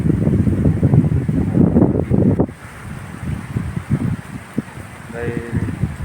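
Strong wind from Typhoon Enteng gusts in Bacoor, roaring against the microphone and then easing into a lower, steadier blow. Someone talks over the wind the whole time.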